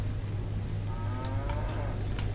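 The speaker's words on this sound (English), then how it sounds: "We have cows." Mutated two-headed cattle in Fallout 3 give a single drawn-out moo over a low game hum, moderately loud and close with no voices.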